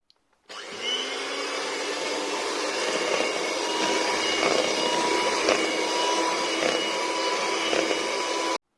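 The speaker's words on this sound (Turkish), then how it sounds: "200 mililitre sıvı kremamızı ekliyoruz ve güzelce çırpıyoruz." An electric hand mixer whips 200 ml of liquid cream for a cheesecake, giving a steady, loud motor whine that runs unbroken from start to finish with no talking.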